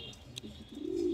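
Pigeons at a home loft, with a low, soft cooing swelling near the end of the short moment and a brief chirp earlier, fairly close but quiet against faint background noise.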